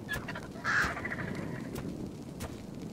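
Argentavis, a giant vulture-like bird in ARK: Survival Evolved, gives a single short raspy caw over a low ambient background, moderately close, with faint clicks around it.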